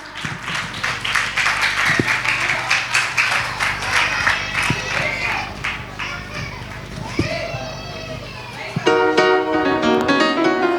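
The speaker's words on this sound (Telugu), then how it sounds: "అందరు క్లాప్స్ కొట్టండి అమ్మా" Children's voices chatter and call out in a lively group, with scattered claps and sharp taps punctuating the noise before a higher voice rises near the end.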